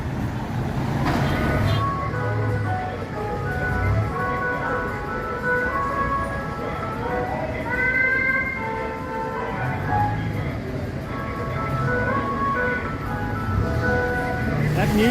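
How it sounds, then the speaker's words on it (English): Jingle music from a gas delivery truck drifts through a city street in Cuenca, Ecuador, a steady melodic tune carried over ongoing traffic and street noise, moderately near and continuous throughout. "That music is the sound of the gas truck, which is interesting at first."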